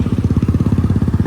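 A motorcycle engine runs on a road near Beni bazaar toward Baglung in Nepal, giving a loud, close, steady stream of rapid low throbbing pulses.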